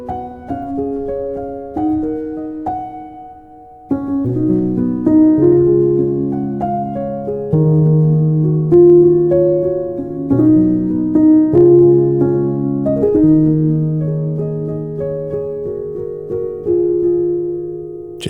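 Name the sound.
felt piano sound from the Keyscape virtual instrument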